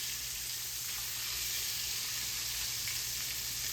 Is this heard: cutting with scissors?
no